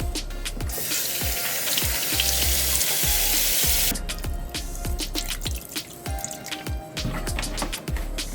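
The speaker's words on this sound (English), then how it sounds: "So I'm going to wash it with some vinegar" Chicken is washed with vinegar in a bowl, with continuous splashing and running water at first, then a pause and a series of close, wet squishing and dripping sounds as the pieces are handled.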